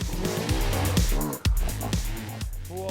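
An enduro motorcycle engine revs hard near redline off-road at Red Bull Romaniacs, with rising and falling whines in quick bursts and a brief cut mid-way, fairly close and loud.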